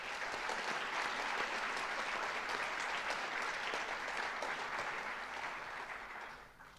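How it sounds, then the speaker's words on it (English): Sustained audience applause at a high school senior awards night, a dense, steady wash of clapping from a large crowd that tapers off at the end. "I'd like to offer another round of applause for our donors, their loved ones, and the students being recognized tonight."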